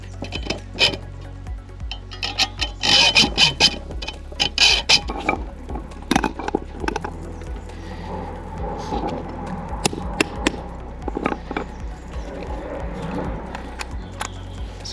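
Brake bridge pipes being cut off a Ford Racing Puma's Alcon brake calipers during a teardown: irregular metallic clicks, scrapes and cutting noises close by, over a steady low hum.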